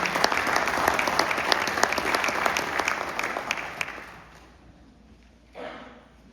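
Dense, steady applause from an FFA leadership night audience at a high school, honoring jacket sponsors, lasting several seconds before fading away, then a brief soft burst of noise near the end.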